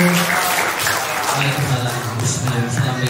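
An audience at a community religious gathering with an Ustaz applauds warmly for the neighbourhood head. The clapping is fairly loud and sustained, with a few voices mixed in.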